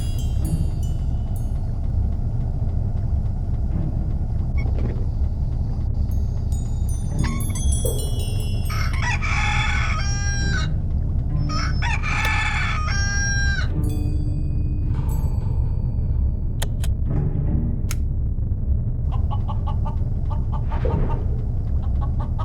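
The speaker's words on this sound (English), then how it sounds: "here's the rooster I smuggled on board" A rooster crows a few times in a PC adventure game, Viaje al Centro de la Luna, over a constant low mechanical hum, the calls standing out loudly from the droning background.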